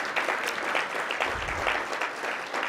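An audience at a business improvement district's annual meeting gives sustained applause, a dense, fairly quiet wash of many hands clapping at once, steady throughout with no talk.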